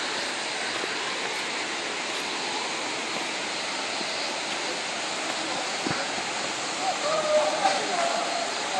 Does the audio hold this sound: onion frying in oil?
no